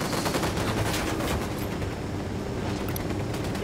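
Sustained rapid gunfire from the video game Ghost Recon Wildlands, dense overlapping shots and bursts filling the whole stretch at steady loudness, with no talking.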